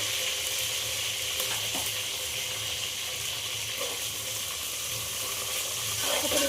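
Ginger onion paste sizzles and fries steadily in a pan for a fish curry while being stirred, a continuous close hiss with occasional faint scraping and no talk.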